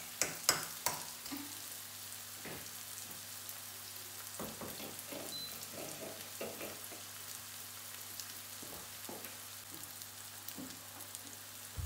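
Chopped onion sizzles and fries in a pan for seafood pasta, a soft steady crackle with occasional stirring clicks, close and quiet, without talk.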